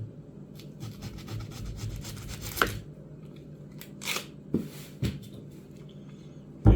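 Papery, rubbing scrapes and scratches from peeling the tough skin off a strong, eye-stinging onion, with a few sharper crackles and taps between quieter handling at close range.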